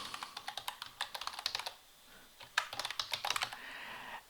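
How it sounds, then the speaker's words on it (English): Login credentials typed on a computer keyboard: two quick bursts of crisp, close key clicks separated by a short pause, with no talk over them. "So I'll enter the login credentials,"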